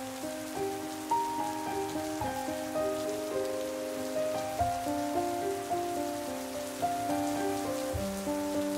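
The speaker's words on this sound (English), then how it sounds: "And then I woke up this morning and it's raining." Steady rain falls outside on a dark morning, a continuous soft patter heard alongside sustained tonal music throughout.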